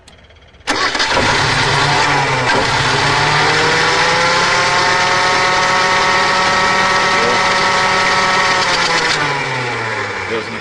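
A Suzuki engine with a spark fault cranks, catches abruptly and runs loud and close at high revs for several seconds, holding a steady roar before easing slightly near the end.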